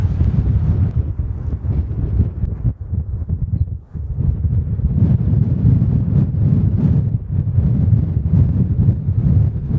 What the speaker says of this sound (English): The tent's holding up well to the wind.